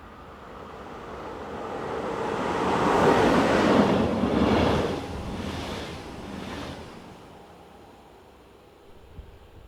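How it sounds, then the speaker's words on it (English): A Swiss Class 450 passenger train set rounds a curve, its rumble swelling to a broad roar mid-pass and then fading as it moves away, with no voices. "Rounding the curve is Class 450 train set number 450026, working the 1442 from Limmattal to Zurich."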